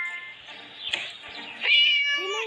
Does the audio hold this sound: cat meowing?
yes